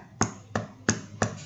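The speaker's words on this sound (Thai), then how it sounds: "เสียงเคาะโต๊ะเก่งมากค่ะ" Knocking on a table: four sharp, evenly spaced raps, close and crisp, with quiet pauses between them.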